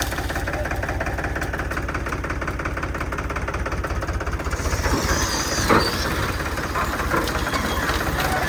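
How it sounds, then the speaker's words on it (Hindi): A heavy diesel tractor engine chugs steadily at close range inside a house compound, a low rhythmic knocking that grows slightly louder partway through, with faint voices underneath. "ये अब घर में ट्रैक्टर प्रवेश कर चुका है।"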